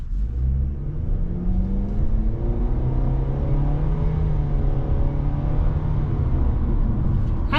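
A 2025 Nissan Sentra SV with a CVT pulls away from a stop, its engine droning at a steady, gradually rising pitch inside the cabin, loud and continuous without distinct gear shifts.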